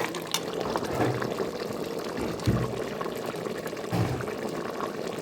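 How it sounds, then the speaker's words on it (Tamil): Two liters of water pour steadily into a pot of mutton biryani, a continuous splashing rush with a few heavier gushes, close and fairly loud. "இப்போ வந்து பிரியாணிக்கு நம்ம 2 லிட்டர் தண்ணியை ஊற்றுறோம்"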